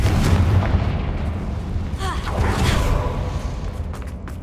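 A Confringo fire spell blasts in Hogwarts Legacy, a loud booming explosion with a sustained rumbling roar and crackle running through the whole moment, alongside brief game sound effects.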